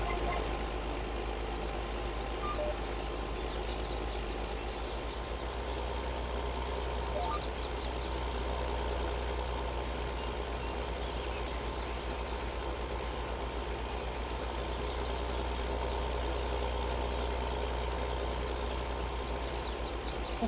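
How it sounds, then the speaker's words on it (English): A Deutz tractor engine in the farming game Farming Simulator 19 runs steadily throughout, a low continuous mechanical drone with a faint knocking pulse, heard near and alone with no talk over it. "We are driving the Dutes because it was cheap and it was high horsepower."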